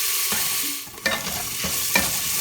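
Garlic-ginger paste sautés in a pan for a beetroot sabzi, a close, steady sizzle of frying broken by several scraping stirs of a spoon at irregular intervals.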